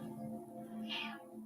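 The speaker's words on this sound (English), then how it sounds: "Cat." A single short cat meow sounds faintly over a low steady hum, brief and somewhat distant.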